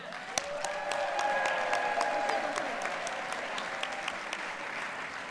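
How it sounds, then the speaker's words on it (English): A crowd at a political group's kickoff event applauds steadily, a sustained wash of clapping at moderate volume with a few sharp claps standing out and faint whistle-like tones above. "give a round of applause"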